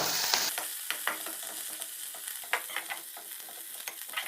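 Hori soppu leaves roasting in a pan for homemade tambuli, a light steady sizzle broken by irregular scraping and tapping of the spatula as they are stirred.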